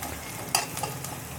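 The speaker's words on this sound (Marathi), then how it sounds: "आता त्याच्यामध्ये 1 चमचा ठेचलेला लसूण टाकायचा आहे. त्याला पण फ्राय करून घेऊ मोठ्या आचेवर." Crushed garlic fries in a pan over a high flame, a soft steady sizzle broken by a couple of brief stirring scrapes, close and fairly quiet, no voices.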